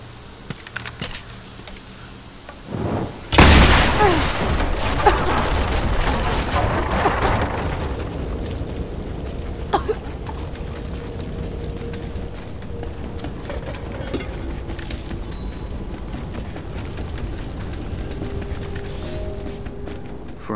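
Greek fire vessels in Rise of the Tomb Raider erupt in one loud, close burst of fire, followed by a long roaring, crackling burn with scattered debris clinks that fades slightly but stays steady.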